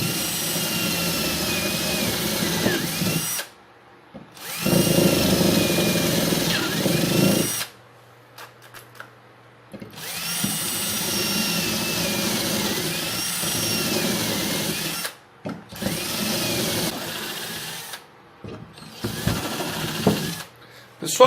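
A drill bores a hole through a wooden DLE model airplane propeller, its loud whining bursts starting and stopping several times with short quiet gaps in between, close to the microphone.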